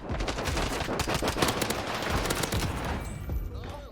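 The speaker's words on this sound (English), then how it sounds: "Right now I hear a gunfight downstairs." Rapid gunfire from a firefight in the Warzone battle-royale game, a dense stream of shots and bursts crackling steadily for several seconds before thinning out near the end.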